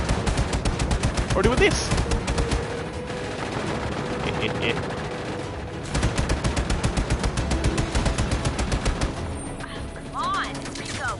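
Rapid automatic gunfire from Just Cause 3 rattles in long, steady bursts while shooting enemies off their bikes, loud and close with short pauses between volleys, as someone speaks briefly over it.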